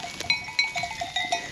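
Sheep bleating near a wheat field, a flock giving repeated wavering bleats in quick succession, close and clear, with no talk.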